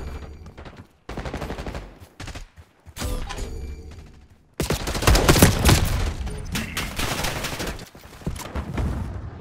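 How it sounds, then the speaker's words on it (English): Gunfire in Call of Duty: Black Ops 6 beta multiplayer, bursts of rapid automatic fire and single shots, loud and close, growing into sustained heavy shooting in the second half. "I was wondering why I was being shot from my own teammate, man."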